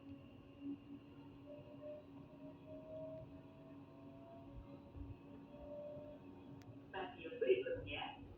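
Jakarta LRT train built by Hyundai Rotem riding between stations, a quiet steady interior hum with faint whining motor tones, and a voice announcement near the end.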